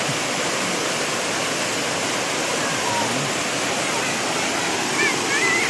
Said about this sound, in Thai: อันนี้เป็น น้ำตกสามลันนะครับผม